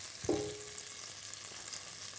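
Onions sautéing in melted butter in a large casserole for veal blanquette, a faint steady frying hiss with a brief clink near the start.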